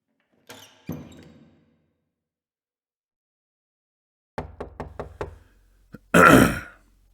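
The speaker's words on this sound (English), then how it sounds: "Come knock on my door when you're up again." Five quick, evenly spaced knocks on a door sound close in a quiet room, with short rustling and vocal sounds before and after.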